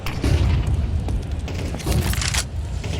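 A grenade blows up in a Counter-Strike match: deep, rumbling booms and bursts roll through a few seconds, loud and close, with no talk over them.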